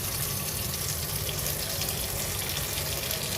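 Tap water running steadily into a sink while the drinking water for pet doves is washed and changed, a continuous close gush with no talking.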